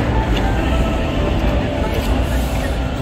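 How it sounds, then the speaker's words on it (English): A subway train runs near the Humber River at Old Mill, a steady loud rumble with rail clatter holding at an even level for the whole stretch, no voices heard. "there's another subway going to Old Mill Subway"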